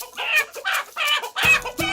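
Chickens clucking in a continuous run of short calls, with Newcastle disease noted as a problem in the flock, heard close and fairly loud with no talk over them.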